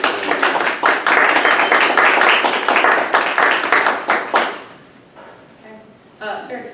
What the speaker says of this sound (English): So let's give Holly a round of applause.